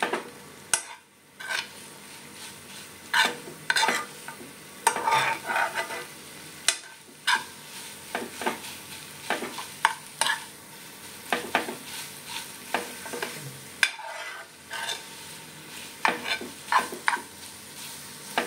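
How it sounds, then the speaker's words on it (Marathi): Maggi noodles with masala are stir-fried in a pan, a Korean BBQ chicken version. A low sizzle runs underneath while a utensil scrapes and taps the pan in irregular strokes, close up, with no voices heard. "थोडंसं नूडल्स परतून घेतो."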